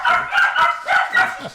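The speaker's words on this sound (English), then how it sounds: "See, the dogs are excited." Excited dogs bark several times in quick, uneven bursts, loud and close, the barks tumbling over one another in the setting of a fantasy adventure game.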